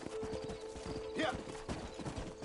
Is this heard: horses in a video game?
yes